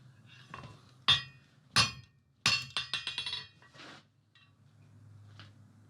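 Hammer blows on hot steel while drawing down a square taper for a fireside tool set: a few separate ringing strikes, then a quick run of five or six close, sharp hits with metallic clinks, and quiet gaps between.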